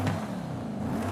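A twin-turbo car with a sport exhaust revs in Forza Horizon 5, a steady mid-pitched engine drone held close and loud throughout, with no talk over it.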